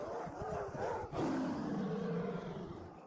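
A pack of snow wolves roaring, heard as deep, growling roars that swell and overlap. The sound is loud and close, with a sharp burst partway through, then a sustained rumbling roar that slowly fades.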